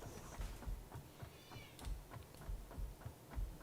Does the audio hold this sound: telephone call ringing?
no